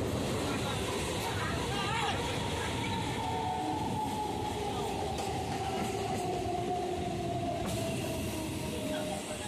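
A Bandel local train passes from the front, a steady loud rumble of wheels and carriages that fills the whole clip, with a faint tonal whine running throughout.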